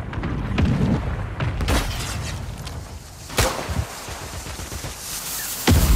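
Heavy mortar strike blasts in a combat video game, several loud booming impacts spread across the stretch with sharp cracks between them and no talk.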